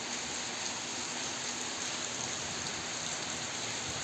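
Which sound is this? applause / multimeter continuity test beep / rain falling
rain falling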